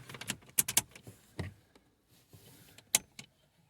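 Car keys for a Vauxhall Zafira with a no-crank fault jangle in a few quick metallic bursts near the start, then once more sharply near the end, close by with quiet pauses between.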